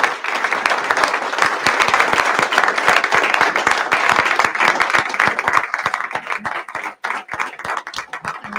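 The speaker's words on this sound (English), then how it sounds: "So let's give them a round of applause." An audience at a school board of trustees meeting breaks into sustained applause, many hands clapping densely and fairly close for several seconds, thinning slightly toward the end.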